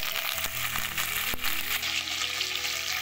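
Curry leaves spluttering in hot oil with garlic cloves, a loud continuous sizzle with sharp pops and crackles, close and without voices.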